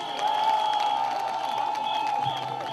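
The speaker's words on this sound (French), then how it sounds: "je voudrais qu'on applaudisse notre garde républicaine" A crowd at an outdoor commemoration applauds the Republican Guard, a steady dense wash of clapping and cheering throughout, with a sustained tonal hum underneath.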